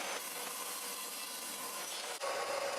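A table saw rips through a wooden workpiece on a homemade saw fixed with a new DIY fence, a steady loud whine of the blade in the wood lasting nearly three seconds, with a brief dip near the end as the cut finishes.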